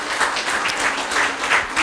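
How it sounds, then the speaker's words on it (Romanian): Audience clapping at a school network launch event, a steady, fairly close round of applause on its own. "Vă dați să ne aplaudăm!"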